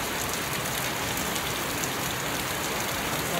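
Heavy rain pours down steadily, a dense close hiss of drops on surfaces with no break and no voices over it.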